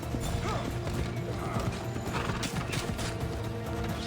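Horse hooves clip-clop at a steady trot in Assassin's Creed Odyssey, the rhythmic beats close and continuous beneath a dense layer of in-game ambience and clatter.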